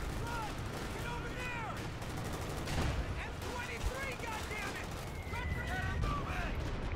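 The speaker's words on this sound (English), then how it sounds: "God damn, it's just one machine gun" Machine gun and rifle fire from a Company of Heroes 2 battle rattles in quick bursts over a steady wash of combat noise, with occasional heavier thumps, all at a moderate, somewhat distant level.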